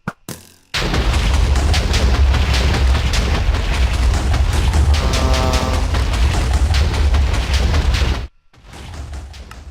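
A continuous roar of loud Minecraft TNT explosions and blasts rumbles for several seconds, dense and booming, then cuts off abruptly into near silence.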